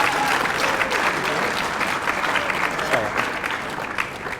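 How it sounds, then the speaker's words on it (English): Audience applause for an award recipient at a junior Australian football medal presentation night; a steady, fairly dense round of clapping with some crowd murmur and voices underneath. "He deserves a round of applause as well."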